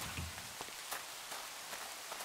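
Rain falls in Minecraft as a soft, even hiss of drops with faint pattering, quiet and continuous, with no voices.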